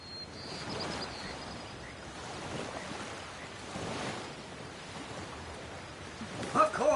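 Soft, hushed ocean waves roll through a seashell in the fantasy game Divinity: Original Sin, a low, steady rushing wash that swells gently and ends with a brief brighter rustle.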